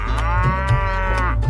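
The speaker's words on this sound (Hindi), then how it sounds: "गाय घास को खाती है" A single cow lets out a loud, close, sustained moo that holds steady for over a second, with deep rich tones and no other sounds around it.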